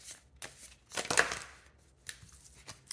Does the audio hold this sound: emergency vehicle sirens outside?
no